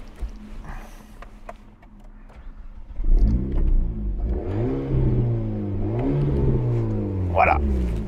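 An Alpine A110S sports car engine, with its sound retuned and boosted turbocharging, revs up loudly and close after a quiet start, rising and falling in pitch through several sweeps.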